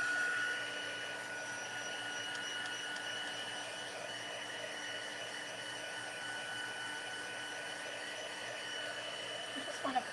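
Dryer blowing on wet shaving cream art, a steady, unbroken airy whir held at an even level from start to finish, with a few small knocks at the very end.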